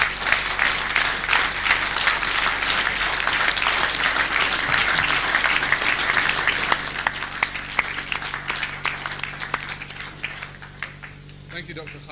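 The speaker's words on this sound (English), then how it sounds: "give me a generous round of applause" A lecture audience gives a long, generous round of applause, dense hand-clapping that stays loud for several seconds, then thins toward the end as scattered claps remain.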